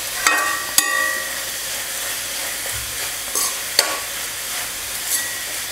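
Chopped raw mango sautéing in hot oil in a pan, a continuous close sizzle broken by occasional sharp scrapes and clinks of a spoon stirring against the pan, with no talk.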